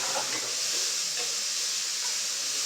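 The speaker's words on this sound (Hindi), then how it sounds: "तो इस तरीके से बारीक कटा हुआ प्याज हम यहाँ पे डाल देंगे।" Finely chopped onion and green chillies fry in a hot pan for Mumbai-style poha, giving a steady, close hiss with faint crackles throughout.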